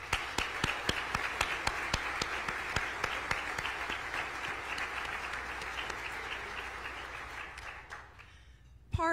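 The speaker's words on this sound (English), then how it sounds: "Will you all please give them a round of applause?" An audience at a city's State of the City address applauds steadily for several seconds, a dense wash of clapping with individual sharp claps standing out, fading toward the end.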